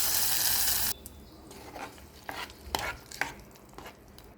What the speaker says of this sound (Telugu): ఒకసారి ఇలా ఎనిపేశాక పప్పుకి పోపు పెట్టుకోవాలి ఎల్లిపాయ వేసుకొని